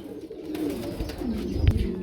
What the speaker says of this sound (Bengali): এই যে নরে কিন্তু ডাক উঠে গেছে